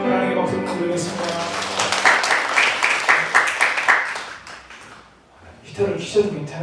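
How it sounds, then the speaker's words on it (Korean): A church congregation at a Sunday worship service claps together, a dense burst of applause rising over fading music and voices before giving way to talk. "하나님께 박수 드리겠습니다."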